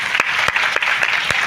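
A university program audience breaks into loud, dense applause, a short burst of many hands clapping together close by.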